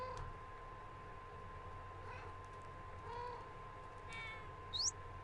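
A Minecraft cat being tamed with fish gives a single faint, high rising meow near the end, over quiet, steady game ambience.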